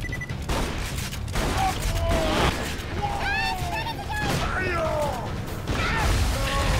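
A grenade goes off amid chaotic Borderlands 2 gunfire, with bursts of crashing blasts and whizzing effects under excited talking voices.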